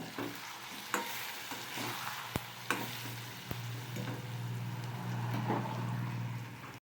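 Chili, cumin and turmeric powder being sautéed in a pan give a soft, steady sizzle, broken by a few sharp scrapes and taps as a spoon stirs the spice mix.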